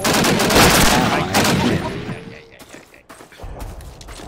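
Machine gun fire in Call of Duty 1 rattles as a loud, dense burst, fades briefly, then resumes as scattered gunfire, with a voice speaking underneath.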